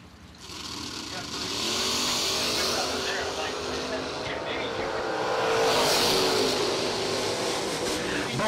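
Drag race cars run down the strip at a Summer Fling event, a broad roaring wash of engine noise that swells, eases and swells again from a distance, with an announcer talking over it.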